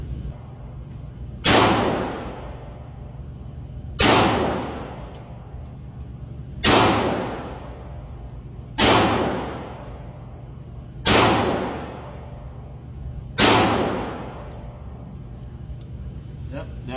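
A gun fires its magazine until it is empty, giving six sharp, loud reports spaced about two and a half seconds apart. Each shot leaves a short decaying echo over a low steady background.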